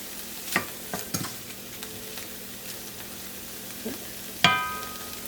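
Meat seared in batches in a cast iron pan gives a quiet background sizzle, broken by a few sharp clinks and scrapes of a utensil, with one louder clatter near the end.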